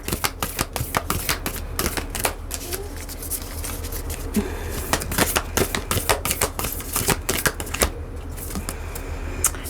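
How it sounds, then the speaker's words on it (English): Rapid, crisp clicks and riffles of cards being shuffled, repeating in quick bursts close by. "so we shuffle the cards"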